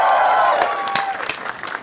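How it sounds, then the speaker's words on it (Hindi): Comedy show audience applauding and cheering a guest arriving on stage, a loud burst that tapers off with a few voices mixed in. "जोरदार तालियां for रघु"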